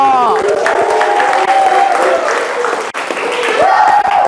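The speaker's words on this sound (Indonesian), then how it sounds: "Tepuk tangan kanggo Bimo." Classroom applause for a student named Bimo: loud, close clapping from many children mixed with excited voices and cheering, sustained throughout with a brief dip before rising again.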